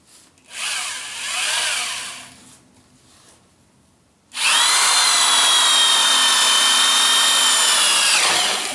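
A power drill with a center drill bit bores through metal of a car rear axle, grinding in two short bursts, pausing, then screaming steadily at high speed for about four seconds, loud and close, with no talking.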